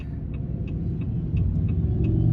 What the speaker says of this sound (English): unfortunately, we got some heavy traffic